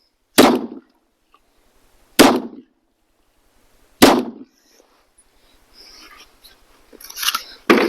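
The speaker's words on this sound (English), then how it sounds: "What I'm going to be shooting out of is a SIG 365." Three sharp gunshots from a SIG 365 pistol fired at sheetrock, evenly spaced about two seconds apart, loud and close with quick decay, followed by faint rustling and handling noise.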